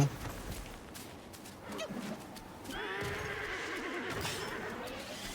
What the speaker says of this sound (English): That's definitely horse noises.